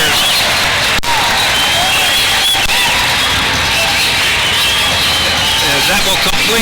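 Arena crowd applauding the Richmond Rough Riders during a pregame ring ceremony at an indoor football game, a loud, dense, unbroken wash of clapping and cheering with voices mixed throughout.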